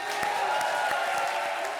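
Audience applause at a comedy show, a dense wash of clapping with faint cheering from the crowd, steady and moderately loud throughout.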